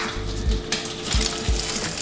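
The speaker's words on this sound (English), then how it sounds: "I can hear it searing away in the pan over here." A salmon crab cake sears in a hot pan with a steady sizzle, broken by a few low thumps and clunks of the pan being handled nearby.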